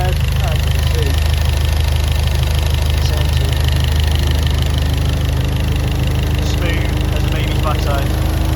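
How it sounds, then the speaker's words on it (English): A VW Golf R Mk7 engine with a ported cylinder head idles smoothly and steadily close by, its even low hum and drone continuing unchanged for the whole stretch. "That is one smooth running engine."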